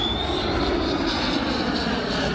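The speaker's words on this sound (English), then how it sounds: "Fokker 15 Naval Reconnaissance Aircraft." A Fokker naval reconnaissance aircraft passes overhead during Singapore's National Day Parade, giving a loud, sustained engine drone that stays level throughout, with no talk.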